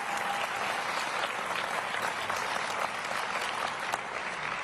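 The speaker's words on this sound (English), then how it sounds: "I guess you can clap for that one." Audience applause in a hall at a governor's final State of the Commonwealth address, a dense, steady burst of many hands clapping at an even level throughout, with no voices over it.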